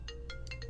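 Faint phone ringtone of an incoming call, a quick series of short, bright electronic beeps in a repeating rhythm over a low steady hum, with no voices.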